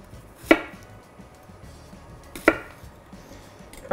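A knife cuts around the cores of peeled apples on a board, giving two sharp, separate chops about two seconds apart, with quiet handling sounds between them and no talk.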